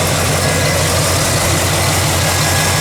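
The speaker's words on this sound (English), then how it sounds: "it's got a really nice running 350 engine" A 1969 Chevelle Malibu's 350 V8 idles steadily up close, a loud, even low rumble with a regular pulsing beat and no voices over it.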